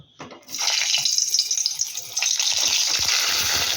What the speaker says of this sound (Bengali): তেল ভালো মতো গরম হয়ে গেছে এবার পটলগুলোকে ছেড়ে দেব